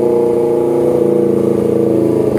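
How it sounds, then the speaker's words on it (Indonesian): Honda CBR250RR motorcycle engine held at a steady raised idle of around 3000 RPM during injector and throttle cleaning, a continuous, loud, even drone close by, with no voices. "kita angkat RPM sampai 3000 RPM."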